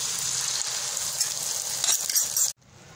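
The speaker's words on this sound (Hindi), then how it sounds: "नज़र हमने जो अंडा अभी इसके ऊपर आपके सामने डाला है, अब ये अच्छे तरीके से हल्की आग पे जो है पक रहा है" An egg frying in hot ghee in a pan over a low flame gives a steady, bright close sizzle with faint stirring clinks. The sizzle cuts off abruptly near the end.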